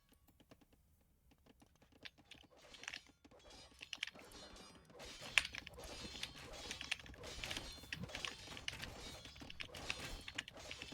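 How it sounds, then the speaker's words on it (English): Rapid clicking of a computer keyboard comes through team voice chat during a 3v3 video game tournament match, starting faint and growing denser and louder, an irregular patter of keystrokes. "I hear the clicking."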